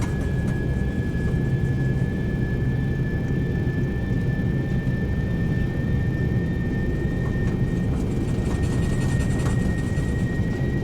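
A Singapore Airlines Boeing 747 landing at Jeju Airport in the rain, heard as a steady, loud, broadband jet roar with a sustained whine throughout, unchanging for about eleven seconds, with no talk.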